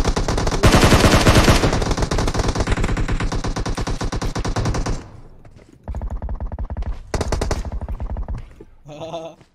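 Rapid automatic gunfire from a first-person shooter match, loud dense bursts of machine-gun fire for about five seconds, then shorter separated volleys with brief pauses between them.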